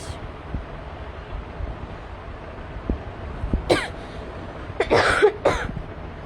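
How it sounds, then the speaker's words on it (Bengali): A woman coughs several times over a steady windy background hiss, the coughs sharp and close, clustered in short bursts near the end. "আজকে তো কাশি আসতেছে কেন?"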